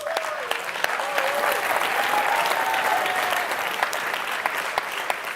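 Audience at a political party election congress breaking into sustained applause and cheers, a steady dense clatter of clapping that fills the hall throughout.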